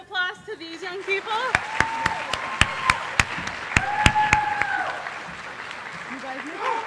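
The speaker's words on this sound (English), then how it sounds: "If we want to give one more round of applause to these young people." Sharp, distinct claps ring out in a steady rhythm at a high school fine arts night showcase and awards event, sounding under voices that carry through the room.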